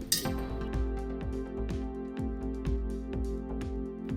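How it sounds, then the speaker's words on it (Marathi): A spoon clinks repeatedly against a metal bowl while oil is mixed into red chili powder, with sharp metallic taps at a steady stirring rhythm over a faint ringing hum. "पूर्ण तेल आहे ना ह्या मिरची पावडरमध्ये व्यवस्थित आपण मिक्स करून घेऊया"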